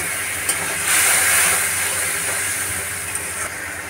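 A little water hits a spice paste frying in a pan while paneer curry cooks, giving a loud, close, broad hiss that swells after a second and stays steady, with a couple of faint clicks.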